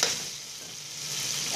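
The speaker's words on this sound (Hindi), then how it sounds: "3 से 4 मिनट तक आलू और मसाला जो है वो अच्छी तरह से इसको हम भून लेंगे" Cut potatoes and masala fry together in a pan, giving a short, continuous hiss of sizzling oil up close with a brief stir at the start.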